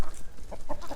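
Chickens cluck in a short burst of soft, close clucks and squawks from a backyard flock being herded out of their run.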